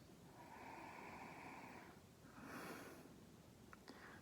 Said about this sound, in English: Going in for a sniff, folks.